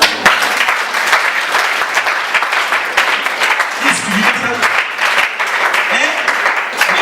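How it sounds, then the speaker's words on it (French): A church congregation at a French-language worship service breaks into loud, continuous applause with cheering voices, steady and dense throughout. "Acclame Jésus."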